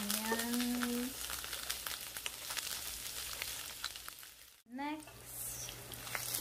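Garlic and onions hitting a hot pan and frying, a steady close sizzle with a brief pause and stir before the crackle resumes, under a low background hum and what sounds like a faint voice.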